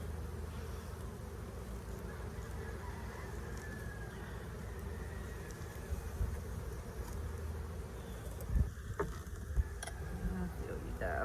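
Honeybees buzzing around an open hive during spring beekeeping in Southeast Alabama, a continuous close droning hum with a few sharper knocks near the end.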